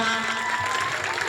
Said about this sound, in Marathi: जोरदार टाळ्यांनी स्वागत करा.